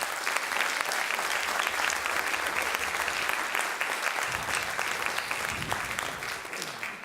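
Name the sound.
audience applause at sports awards gala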